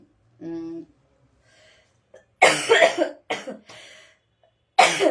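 A voiced throat sound opens, followed after a pause by a few loud, harsh coughing bursts in quick succession, close to the listener.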